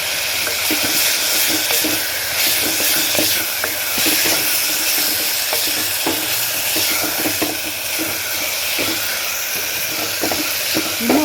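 Ginger and garlic sautéing in a pan for cauliflower biryani give a strong, continuous sizzle and hiss up close, with soft stirring scrapes and clicks throughout.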